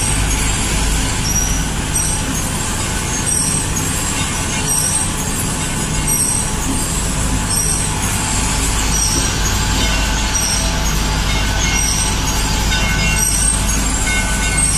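Sato-sato tourist train running at Ancol, pulling into a station: a steady, loud rumble of rolling wheels and carriages fills the whole stretch, with occasional high squeals from the wheels and no talking.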